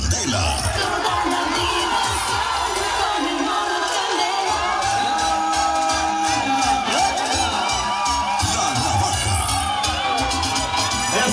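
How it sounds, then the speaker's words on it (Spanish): Concert crowd cheering, whooping and applauding for the host in Chicago, a dense continuous roar of many voices with shouts rising throughout. "un aplauso para el mono, por favor"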